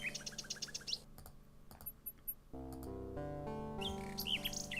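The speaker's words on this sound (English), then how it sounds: "Because that's what nightingales sound like." A nightingale sings in the King's Quest 6 video game: bright, tinny chirps and trills alternating with synthesized musical tones, clear and alone.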